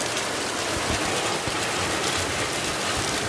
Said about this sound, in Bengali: এরকম বৃষ্টি কিন্তু সব সময় হয় না